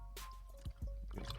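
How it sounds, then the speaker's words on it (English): A person takes a sip of water, heard as a couple of short, soft gulping and swallowing sounds close to the mic against a quiet background hum. "Let me take a sip of water."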